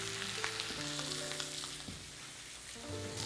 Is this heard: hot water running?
no